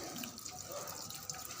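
Water runs from a faucet while hands are rinsed, a soft steady splashing hiss that continues briefly and quietly.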